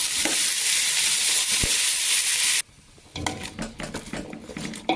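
Sweet pumpkin palya sizzles loudly in a pan as salt is stirred in, a dense hiss that cuts off abruptly partway, followed by softer scraping and clinking of a spoon against the pan.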